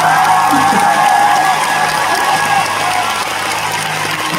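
A crowd at a concert in Busan applauds and cheers during the encore, a dense, loud wash of clapping and crowd noise that holds steady throughout.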